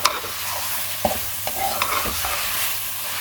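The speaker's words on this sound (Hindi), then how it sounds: "मसाले में चिकन को भून लेंगे।" Chicken pieces frying and being stirred in a spice masala for Delhi biryani; a steady close sizzle with sharp clinks and scrapes of the spoon against the pan, no voices.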